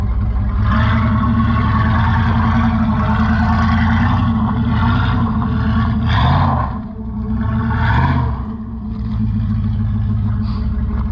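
A vehicle with a welded rear differential, running on a fuel mix of waste oil, gas and diesel, drives up a slope, its engine droning steadily and loudly throughout, surging and dipping in two brief swells partway through.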